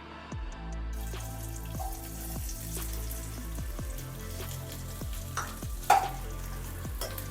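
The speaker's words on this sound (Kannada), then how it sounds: "ಆನಿಯನ್ನು ನಾವು ಜಾಸ್ತಿ ಫ್ರೈ ಮಾಡೋದು ಬೇಡ, ಮೀಡಿಯಮಾಗಿ ಫ್ರೈ ಮಾಡಬೇಕು ಆನಿಯನು" Onions fry in a pan for restaurant-style veg noodles, a quiet sizzle under a low humming drone, with repeated spatula scrapes and one louder clatter near the end.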